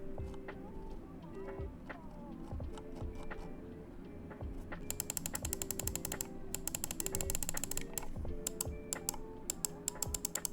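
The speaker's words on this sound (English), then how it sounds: "The scroll wheel feels good, it's a bit on the loose side, and the steps are not too defined compared to the Viper, but the click is crispy" Scroll wheel of an EWEADN S9 Ultra budget gaming mouse, with a loose feel and soft steps, being spun. The first half is quiet, then rapid bursts of fine, crisp clicks ratchet close up, each bursting run separated by brief pauses.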